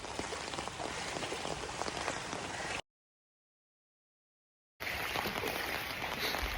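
Light rain falls on a village road in a steady, fine hiss of drops on wet ground, broken by a two-second stretch of total silence before the soft patter resumes at the same gentle level.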